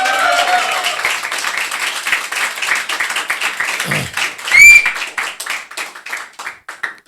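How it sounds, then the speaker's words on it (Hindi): A seated group at a gathering claps and shouts on cue, a dense patter of hands with a brief loud whoop or whistle near the middle, fairly close and lively throughout. "एक बार कुलाबा ग्रुप ज़ोर से कुछ कर दो, ताली बजा दो,"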